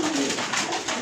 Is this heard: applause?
no